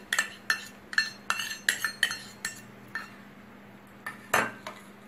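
A spoon scrapes and clinks against a bowl while dry spices, crushed peanuts and tamarind-jaggery paste are stirred together for stuffed bitter gourd, giving about a dozen sharp, close metallic taps in an uneven rhythm with short pauses.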